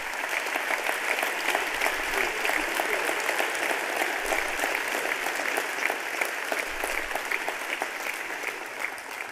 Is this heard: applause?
yes